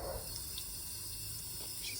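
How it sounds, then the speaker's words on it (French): Outdoors, a thin stream of water trickles from a small watering spout onto a small peperomia plant, soft and continuous under faint background hiss and distant noise. "Je suis en train d'arroser à petit robinet mon petit peperomia."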